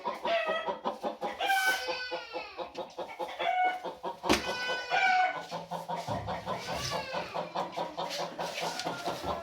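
Several Kienyeji chickens in a backyard flock cluck and squawk continuously nearby, with a rooster-like call rising now and then among the flock.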